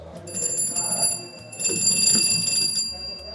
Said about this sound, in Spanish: Este es el teléfono de campana. Tiene campanazos largos o campanazos cortos.